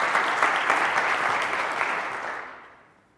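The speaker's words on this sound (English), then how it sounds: "Just clap for me like it was really good, okay?" An audience claps at a talk session on cue, as if it had been amazing: dense, close applause that holds steady, then thins and fades away over the last second.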